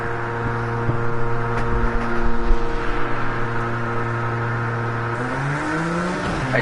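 An LMP2 race car engine in Project Cars 2 at Daytona holds a loud, steady droning tone, then climbs in pitch as the revs rise near the end, with no talk over it.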